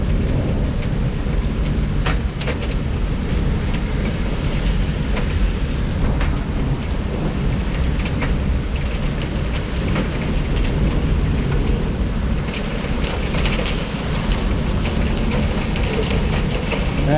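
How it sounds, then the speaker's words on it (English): Heavy hail storm with rain and damaging winds in Winnipeg, Canada: a loud, continuous broadband roar of falling ice and rain, with sharp hits scattered throughout and no voices. "Nothing but hail."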